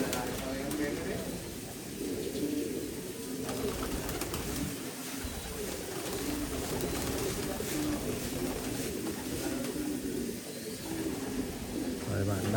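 Many pigeons coo inside a coop in a continuous layered murmur of soft, low calls, with people talking over them throughout.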